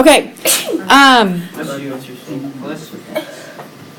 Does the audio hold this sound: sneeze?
yes